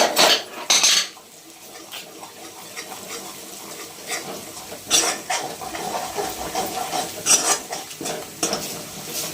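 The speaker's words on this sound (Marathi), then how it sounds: "सगळं व्यवस्थित तेलात परतून घ्यायचं." Turmeric and homemade red chili powder sautéed in oil in a pot, with clattering metal spoon scrapes and knocks against the pan in irregular bursts over a faint sizzle, no talking.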